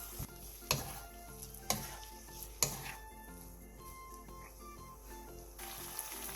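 Seasoned namul vegetables stir-fried in a pan give a soft, steady sizzle broken by a few sharp scraping stirs and light utensil knocks, faint and close, with gentle music underneath.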